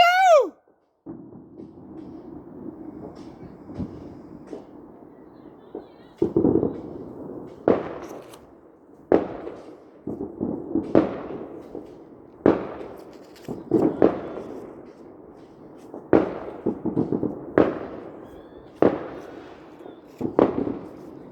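Fireworks and firecrackers going off outdoors in a long run of loud, sharp bangs and crackling bursts, about a dozen spaced blasts over a faint background hiss, with an opening whistle and brief voices at the start.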